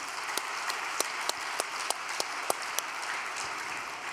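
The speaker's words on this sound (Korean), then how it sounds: "감사의 박수 좀 올려드리겠습니다" A gathered congregation at a training centre gives a round of thanks applause: a dense, even wash of clapping with occasional louder single claps popping out, continuing steadily with no talk.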